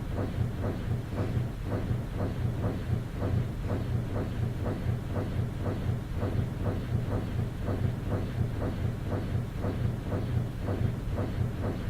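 A train in a video game rolls along its rails with a steady, rhythmic clickety-clack and a low rumble, the repeated wheel beats continuing evenly and loudly throughout, with no talking.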